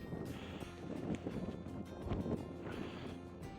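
Wind gusts across a mountain summit near a cell tower, a rough, low buffeting roar against the microphone that holds steady through a short moment, quiet and with no talking.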